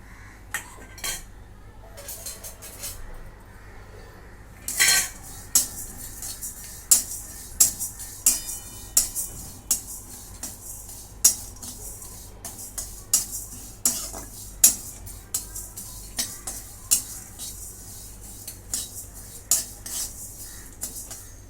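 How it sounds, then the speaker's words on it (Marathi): Whole spices dry-roasting in a kadhai on a gas stove for kharat karle, a spatula scraping and clinking against the metal pan in a steady series of close, sharp strokes over a low background hum. "आता इथं गॅसवर मी कढई ठेवलेली आहे आणि मसाले सर्व भाजून घेते"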